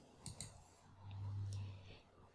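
A computer mouse clicks on a dashboard button in a quiet room, two faint quick clicks followed by a soft low hum.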